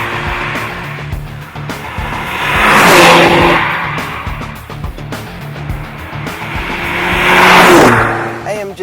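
A Mercedes A45 AMG with a small 2-litre engine and sports exhaust accelerates hard, loud rising revs in two surging bursts with brief gear-change dips and crackles between.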